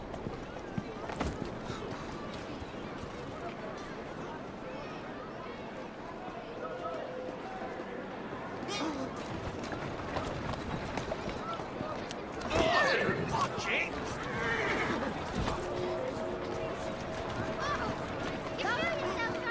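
Assassin's Creed Syndicate horses gallop and whinny, pulling a carriage, amid busy background noise and talk, with a louder burst of activity midway through.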